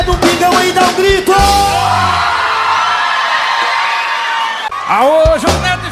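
An audience at a live sertanejo show yells and whoops back loudly in a burst of cheering, with loud sung voices and music around it.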